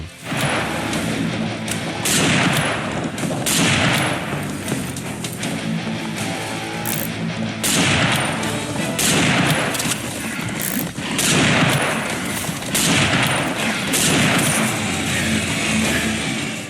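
A heavy Raptor sniper rifle in the Serious Sam 4 shooter fires round after round, each loud, sharp crack arriving roughly every one to two seconds over a continuous roar of game action.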